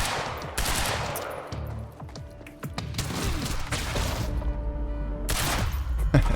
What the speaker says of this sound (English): I can shoot him in the foot.